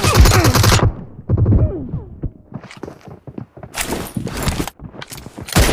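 Bursts of rapid automatic gunfire from the mobile game PUBG Mobile, with loud dense volleys separated by shorter clattering shots and mechanical clicks, close and sharp.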